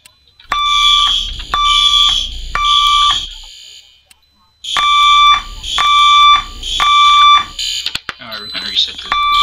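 A fire alarm in a Roblox building sounds in repeated loud electronic tone bursts with short gaps, pausing once before resuming, followed by a brief garbled noise at the end.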